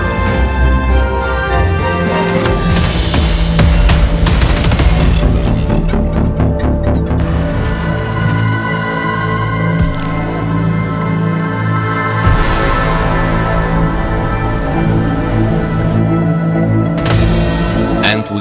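Loud trailer music with an orchestra and Spitfire Labs Winter Voices plays, its sustained choir and string chords building dense layered harmonies with swelling dynamics and occasional accented hits.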